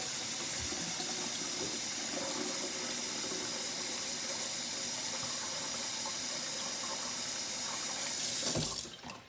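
Water pours steadily from a tap into an enema bag with its tubing clamped, a continuous close splashing rush that runs for several seconds and then cuts off near the end.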